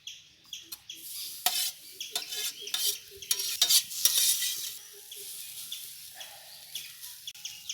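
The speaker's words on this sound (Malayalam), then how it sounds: "ഒരു തേങ്ങ തിരിങ്ങിയത് നമുക്ക് വറുക്കാം" Grated coconut dry-roasting in a pan for a Kerala prawn curry, with a run of close, irregular scraping and stirring strokes against the pan over a faint sizzle, and no talking.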